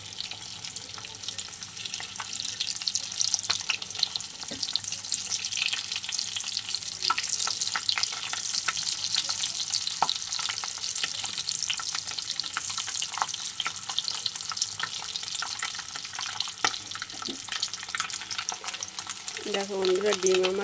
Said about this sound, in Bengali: আমি চারটে ডিম নিয়েছি, নিয়ে সিদ্ধ করে বেশ মাঝখানে ফালি দিয়ে নিয়েছি। এবার আমি ভেজে নিচ্ছি।